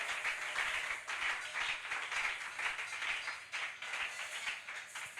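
A church congregation claps together in a steady, moderately distant rhythm of applause that keeps going for several seconds, with no voices standing out.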